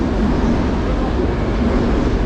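A Hokuriku Shinkansen high-speed train on a fast, scenic run from Tokyo, heard as a loud, steady broadband roar of rushing travel noise that continues without break.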